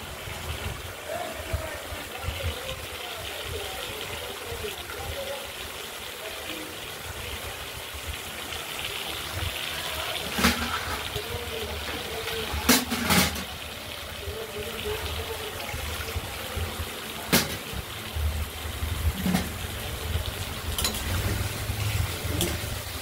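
Water is poured into a simmering katla fish and potato curry, giving a soft continuous gushing and sizzling splash with a few clinks from the pot, quiet and close.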